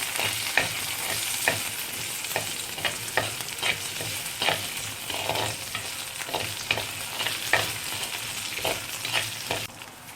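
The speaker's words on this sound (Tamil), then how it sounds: "எல்லா வெங்காயம் எல்லாமே வந்து நல்லா வணங்கிடுச்சு, பொன்னிறமாக நல்லா வந்துருச்சு." Onions and spices sizzle steadily in a pan while cooking Chettinad manathakkali kulambu, with a spoon stirring and scraping at a regular rhythm over the constant close frying hiss.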